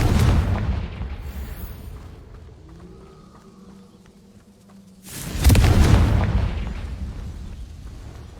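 Confringo explosion spell cast in the game Hogwarts Legacy, two heavy booming blasts, one fading at the start and a second loud burst midway that rumbles and slowly decays.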